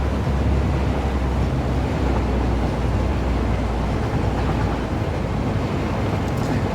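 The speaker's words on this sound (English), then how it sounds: "The train! I'm on the train." A train ride in the factory-building game Satisfactory produces a loud, unbroken rumble of wheels and carriage noise that holds steady throughout.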